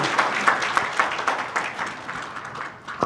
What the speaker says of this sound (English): Let's have one big round of applause for all of them.